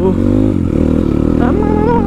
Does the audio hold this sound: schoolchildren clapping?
no